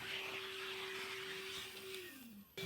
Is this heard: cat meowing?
no